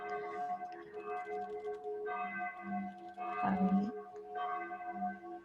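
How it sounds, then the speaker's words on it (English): Church bells ringing nearby, several rounded, resonant strokes sounding one after another with long humming overtones, moderately loud and heard alone. "There's a church nearby. I think these bells go on for a little while."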